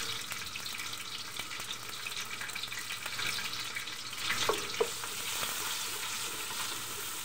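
Onions fry in a pan with whole bay leaf, cardamom, cinnamon and cloves for chicken biryani, giving a steady, close sizzle with a few clinks and stirring sounds and no talking.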